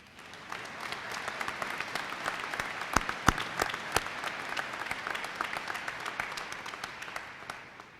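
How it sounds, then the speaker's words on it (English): A winter commencement audience claps in a crowded hall, a fairly faint, even wash of many hands with a few sharp, close claps standing out. "I think that's worthy of applause."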